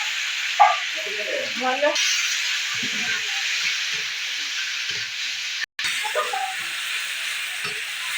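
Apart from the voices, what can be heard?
onion, green chili and tomato frying in hot oil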